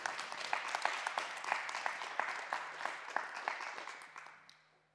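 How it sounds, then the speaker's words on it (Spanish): A church congregation applauds loudly for the Lord during a sermon, a dense wash of many hands clapping that holds steady for several seconds, then fades out at the end with no voices over it. "Den un aplauso fuerte al Señor, se lo merece"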